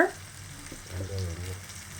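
Onions sautéing in a pan with salt, a soft low sizzle with faint stirring scrapes, close and fairly quiet, brief and without talk.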